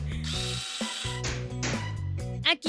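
A power drill in a cartoon room-building scene whirs loudly and continuously, its steady motor tone shifting pitch a few times with brief mechanical stutters, ending in a short rising squeal; no speech.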